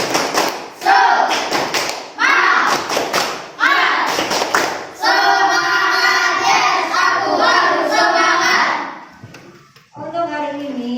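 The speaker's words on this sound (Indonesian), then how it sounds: "Yuk, tepuk semangat." Classroom of children doing a rhythmic cheer clap led by a teacher, sharp patterned claps and thumps with chanted voices, loud and close, ending in a held group shout.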